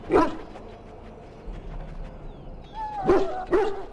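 A dog in Dragon Age: Origins gives short barks and whimpering yips, one near bark at the start, then a couple more with whining tones near the end over a faint background hum.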